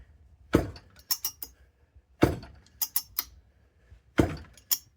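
The pull-rope recoil starter of a Poulan 306a/245a chainsaw is yanked three times, each pull a rasping whir followed by a quick run of ratcheting clicks as the rope rewinds, close and isolated.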